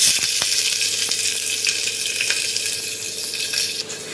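Onion and curry leaves fry in a pan, a loud, dense, continuous sizzle with a few faint clicks of a utensil, close up and steady throughout, no voices.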